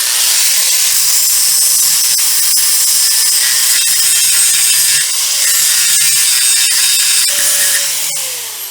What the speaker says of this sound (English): Let's do a little grinding.